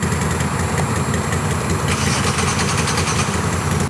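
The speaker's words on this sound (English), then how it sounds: "That car was starting its engine," A car engine turns over and settles into a steady idle, loud and close, with constant mechanical rumble and no voices.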